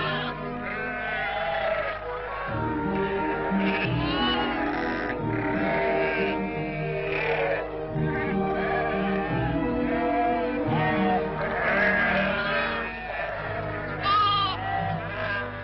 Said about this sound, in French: Nous te choisirons tes moutons, de belles bêtes qui engendreront de beaux agneaux.